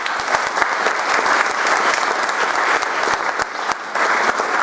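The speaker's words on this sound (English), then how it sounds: "So can we give them a special round of applause?" An audience claps in a library performance space cleared by moving bookshelves aside at a medieval festival event: dense, steady applause from many hands, loud and close, holding evenly throughout.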